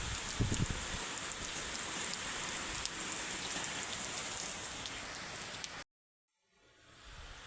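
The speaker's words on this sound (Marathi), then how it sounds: "बाहेर पाऊस पण बघा किती लागला" Heavy, steady rain hisses and patters for several seconds with no voices, then cuts to a brief silence before faint rain returns.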